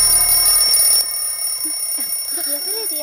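An alarm clock rings loudly and steadily for about the first second, then cuts off, leaving quieter room sound with faint voices.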